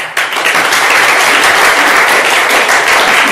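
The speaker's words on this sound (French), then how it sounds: "il faut qu'on applaudisse la femme de Denis Lévy quand même" Loud, close audience applause, a dense wash of clapping that swells quickly and holds steady for a few seconds at a live gathering.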